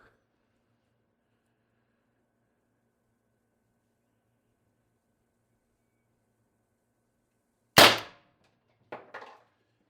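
An Umarex TR50 CO2 air gun fires a 12.7mm steel ball bearing from a 36g CO2 cylinder: one sharp, loud crack after a long silence, followed by two faint knocks from the ball striking shortly after.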